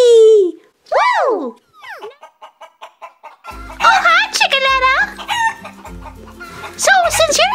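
A voice imitates a chicken for a toy chicken in Play-Doh egg play, with warbling clucks and squawky crowing calls in bursts, loud and close.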